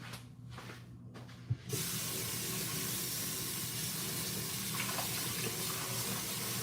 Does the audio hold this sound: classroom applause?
no